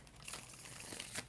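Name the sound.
shuffling tarot cards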